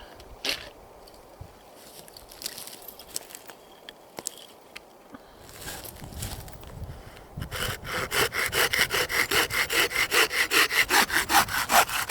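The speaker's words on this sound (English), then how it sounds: "we're going to cut just below this knot and get rid of that" A hand saw cuts through a wooden bow drill spindle just below a knot, starting with scattered scrapes and light taps, then settling into a fast, even run of loud back-and-forth rasping strokes.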